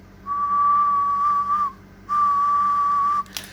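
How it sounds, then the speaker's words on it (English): A person whistles two long, steady single-pitch notes with a short break between them, clear and close against a faint hum from ham radio amplifier gear. "Never can whistle. I'm a shocking whistler."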